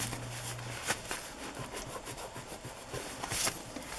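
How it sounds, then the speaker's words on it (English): Dried glue being rubbed off a page of a paper glue book by hand, a steady scratchy friction that runs the whole time at close range with no voices. "Rub that glue off."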